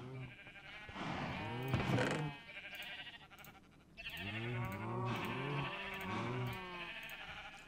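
Blocky video-game sheep from Minecraft bleat repeatedly, several overlapping calls rising and falling in quick succession, with soft in-game background noise between them and no talk.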